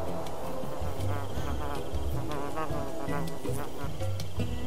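Insect-like buzzing of a bee in the video game Fire, running steadily under busy game music and effects throughout.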